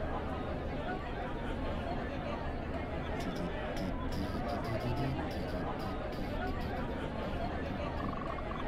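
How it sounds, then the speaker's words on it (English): Crowd chatter in the video game Eden's Last Sunrise, a dense continuous babble of many voices with occasional sharper clicks, steady and fairly loud throughout. "Quite the crowd is gathered"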